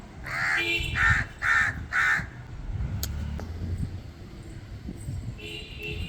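Crows caw four times in quick succession, loud and fairly close, then fall silent before a single fainter caw near the end over a low outdoor rumble.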